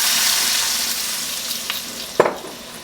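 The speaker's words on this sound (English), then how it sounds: "now that we got our water boiling" Water with minced ginger comes to a boil in a pan, giving a steady, close bubbling sizzle with a few sharp pops and small clinks near the end.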